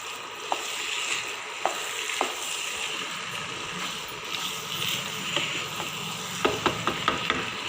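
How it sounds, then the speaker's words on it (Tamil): Macaroni frying in a pan while being stirred, a steady sizzle under repeated scraping clicks from the utensil, with a quick cluster of sharp taps near the end; no one talks. "இந்த அளவுக்கு நல்லா கலர் வர அளவுக்கு கிண்டிக்கோங்க."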